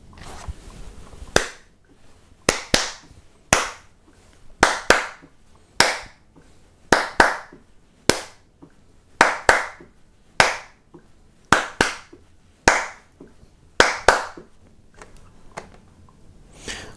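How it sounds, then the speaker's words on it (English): Sharp hand claps recorded as a music track in a home recording session, landing in pairs and singles at a steady, roughly rhythmic pace, dry and close with short decays and nothing else underneath. "if I don't like the way the sound claps came out in that particular track"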